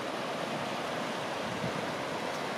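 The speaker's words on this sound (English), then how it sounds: "More flowing water. Nice waterfall up here." A flowing mountain stream and small waterfall along a backpacking trail to Twin Lakes: a constant, even rush of water that stays steady and fills the whole scene without pause.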